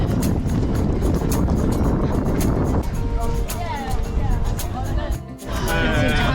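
Strong wind buffeting at the start of an outdoor Easter 10K road race, a loud continuous roar and rumble with gusty flutter throughout.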